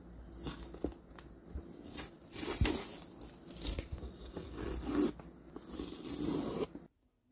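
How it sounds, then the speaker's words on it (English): Tape being peeled off the sole and toe of a freshly hydro-dipped shoe: close, quiet ripping and crinkling bursts in an uneven series over several seconds, ending abruptly. "we're going to take the tape off of the sole and"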